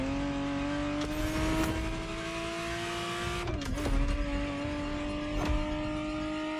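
A Ferrari Testarossa engine runs steadily near and loud at a held, rising pitch, revving briefly around the middle, with tire noise mixed in throughout.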